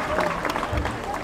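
Passengers on the cruise ship Celebrity Eclipse clap at an equator crossing ceremony, a dense, steady patter of applause mixed with crowd murmur over about a second.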